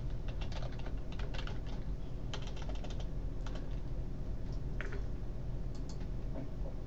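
Keys tapped on a computer keyboard while typing a username, quick irregular bursts of light clicks with short pauses between them, faint and close over a quiet background hum.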